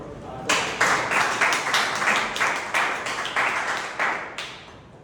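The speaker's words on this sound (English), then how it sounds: "have a round of applause" Audience applause at a speaking meeting, a few people clapping in quick uneven bursts for several seconds, fairly close and without talking.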